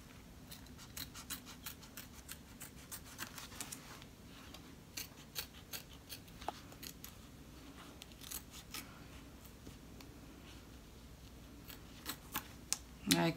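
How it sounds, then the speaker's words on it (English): Scissors snipping through fabric in irregular, close clicks and crunches, with quiet pauses between cuts. "So I'm using my scissors to get as close as I can"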